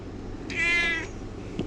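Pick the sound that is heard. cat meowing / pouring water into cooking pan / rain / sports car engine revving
cat meowing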